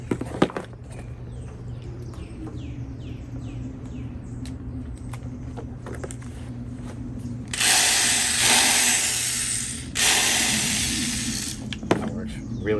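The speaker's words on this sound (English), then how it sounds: "Well, we've got our craftsman drill." A 1980s Craftsman electric drill whirs in two short bursts, loud and close, after faint handling noises and bird chirps in a quiet room.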